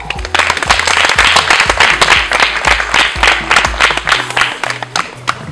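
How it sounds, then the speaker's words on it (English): Loud applause from an audience at a women's high tea and champagne party, a burst of close, uneven clapping with individual claps standing out, easing slightly toward the end. "If we can all give her another round of applause."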